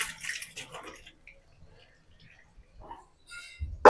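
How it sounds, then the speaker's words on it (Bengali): Water is poured into a pot of fried rice for tehari, a brief rushing burst near the start that fades into quiet with a few small clinks. "আমার চাউল ভাজা হয়ে গেছে, পানি দিচ্ছি।"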